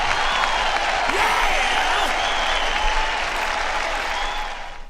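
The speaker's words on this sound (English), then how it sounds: "Let's give a hand clap to Sony." A crowd claps enthusiastically for Sony in a dense, sustained burst of applause that holds steady and then begins to fade toward the end.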